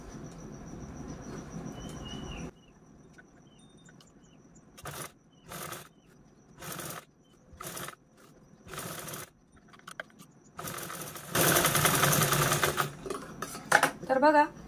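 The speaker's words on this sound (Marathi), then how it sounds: "आता हा दुसरा पार्ट पण आपल्याला अशा पद्धतीने या झीप वरती स्टिच करून घ्यायचा आहे।" Sewing machine stitching a zip onto a shopping bag, several short bursts of rapid mechanical rattling separated by pauses, then a longer run of stitching near the end. A quiet room tone fills the opening seconds before the machine starts.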